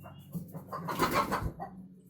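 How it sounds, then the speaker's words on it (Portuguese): Backyard chickens clucking and squabbling nearby, a few short agitated bursts of clucks rising to a louder flurry before settling, with no talk. "Minhas galinhas aqui, discutindo."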